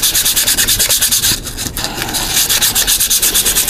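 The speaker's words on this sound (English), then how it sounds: "Just take a little piece of sandpaper like this, go around and sand them off" A small piece of sandpaper rubs back and forth around the edges of an art drink coaster, making a rhythmic, close scratchy rasp. The strokes briefly pause before resuming at the same steady pace.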